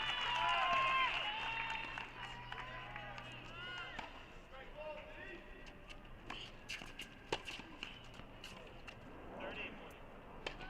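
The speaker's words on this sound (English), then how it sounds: "there the slow clap starts." Scattered slow clapping from a thin crowd at an NCAA Division I tennis championship match, sharp hand claps picking up in the second half under steady commentator talk.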